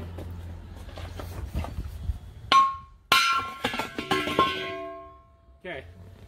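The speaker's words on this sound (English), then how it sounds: "you might have to hit that with a hammer" Hammer blows against the tire of a 1956 Massey Ferguson TO35 tractor, several sharp metallic strikes with ringing tones, the loudest two in the middle, alongside low rumble and people talking.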